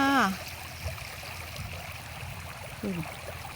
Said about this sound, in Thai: เสียงน้ำไหลพี่น้อง เสียงธรรมชาติ เสียงน้ำไหลค่ะ